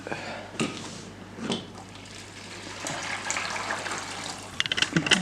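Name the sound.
broth poured into Tupperware Ultra Pro for risotto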